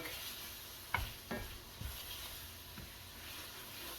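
Meat browning in a skillet on a stovetop burner gives a low, steady sizzle, with a few sharper scrapes and clatters as it is stirred and shifted.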